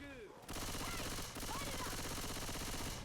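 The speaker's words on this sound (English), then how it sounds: "Let me get my machine gun." Sustained machine gun fire in Left 4 Dead 2, rapid continuous bursts that drop out briefly then resume, loud and dense with game sounds layered over the shooting.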